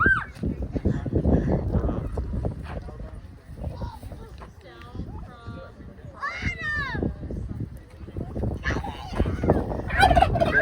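Several loud, warbling turkey gobbles ring out near the middle and end, over shuffling noise and people chatting nearby.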